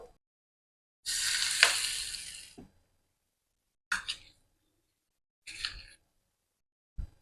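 Hot oil poured over raw spice masala for green tomato stuffing hisses in one strong sizzling burst, followed by three shorter spoon-mixing crackles, close and quiet between.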